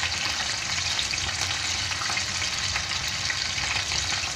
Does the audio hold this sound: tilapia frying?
yes